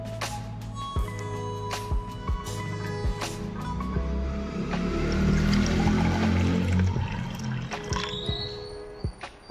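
Hot water is poured in a home kitchen, a steady liquid stream swelling in the middle amid clinks and knocks of vessels, fairly close and with little else around.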